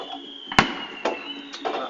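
Fireworks display bursting outdoors, three sharp bangs about half a second apart, the first loudest and nearest, each trailing off into a brief crackling rumble against a steady background hiss.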